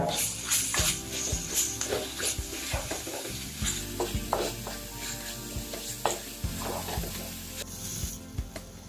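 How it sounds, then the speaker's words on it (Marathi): Onion sautéing in oil with ginger-garlic paste for dhaba-style mutton, a steady sizzle with repeated scraping and clinking stirs of a spoon against the pan, close and clear with no talk. "आता यावर दोन चमचे आलं लसूण पेस्ट घालून परतून घ्या"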